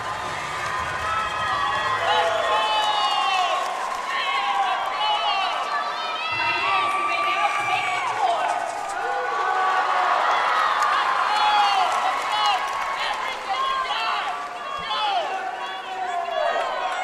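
A large crowd at a high school state finals cheerleading competition cheers and shouts continuously, with many overlapping high-pitched voices, whoops and clapping filling the arena, loud and sustained throughout.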